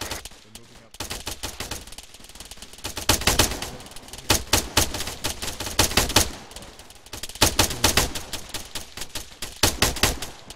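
Bursts of M4 rifle fire with tracers crack out loud and close during a Friday night fight, several rapid strings of shots with brief pauses between them across a busy field.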